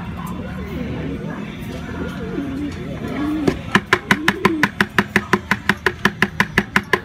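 A pet pigeon lands back at its loft: rapid rhythmic wing claps and flapping follow someone talking over soft background sounds, the flutters loud and close.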